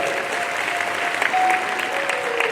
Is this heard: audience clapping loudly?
yes